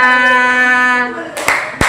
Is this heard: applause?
yes